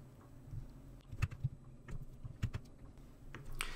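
A handful of soft, separate key clicks tap out a shortcut on a computer keyboard, quiet and close against a low room hum.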